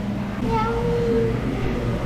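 A cat meows at a café in Havana, Cuba, a short rising and falling cry heard once against steady background chatter and room noise.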